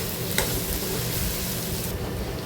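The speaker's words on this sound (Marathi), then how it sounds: "आता याच्यामध्ये आपण टोमॅटो घालूया आणि टोमॅटोसुद्धा कांद्यासोबत आपल्याला परतून घ्यायचे आहेत।" Tomatoes and onions being sautéed together in a pan for egg bhurji, a steady close sizzle and fry with light stirring throughout, no voices.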